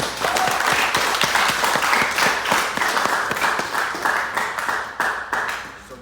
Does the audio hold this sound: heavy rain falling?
no